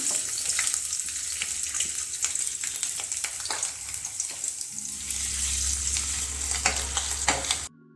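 Garlic and ginger sizzle steadily in a hot pan as the base for saag, a dense, continuous frying crackle with scattered stirring scrapes, close and fairly loud, with no talking.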